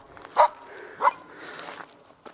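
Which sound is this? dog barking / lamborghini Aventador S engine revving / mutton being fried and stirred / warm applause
dog barking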